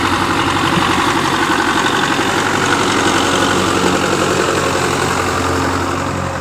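A Belarus tractor pulls a FARMKING disc harrow with sixteen discs through a farm field. The engine gives a loud, close, continuous diesel drone with a rough, throbbing rhythm throughout, and no talking is heard.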